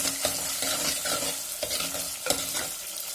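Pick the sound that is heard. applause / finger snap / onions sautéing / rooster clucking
onions sautéing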